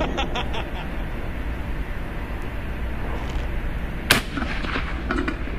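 A single sharp, loud report from an experimental 12 gauge shotgun slug fired through a fully rifled barrel rings out late, over steady outdoor background noise with faint ticking earlier and a short ringing tail.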